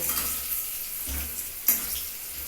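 Boiled potatoes frying lightly in oil in a pan, a steady soft sizzle throughout with a brief clink of a utensil partway through, no voices.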